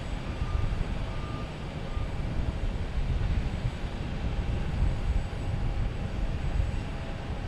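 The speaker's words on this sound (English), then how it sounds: "Here we have JetBlue coming in from LAX. A321." A JetBlue Airbus A321 airliner arriving from LAX comes in to land at Boston Logan Airport, a faint, continuous low roar with steady broadband rush throughout, no talk.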